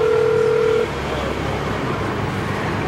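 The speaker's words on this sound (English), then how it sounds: "The moment you press that button, the cameras lock into the emergency help phone" An emergency help phone aboard an LRT train gives off a steady tone for just under a second, then cuts off, leaving a low rumbling train interior hum that continues on its own.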